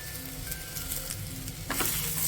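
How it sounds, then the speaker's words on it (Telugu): Taro root pieces frying together with sliced onions, turmeric and curry leaves in a pan give a steady, close sizzle, with a brighter, louder burst near the end as though stirred. "ఇప్పుడు ఇంకా ఒక రెండు నిమిషాలు ఈ ఉల్లిపాయ ముక్కలతో పాటు ఈ ముక్కల్ని ఫ్రై చేసేసుకుందాము"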